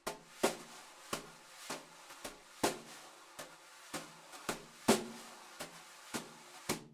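Brushed jazz drumming: soft, sparse hits and swishes with a ride cymbal accent on beat 3, moderately quiet and steady, with no voices.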